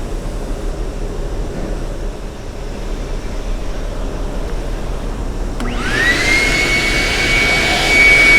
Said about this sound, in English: So we're gonna use the shop vac to clean that as well.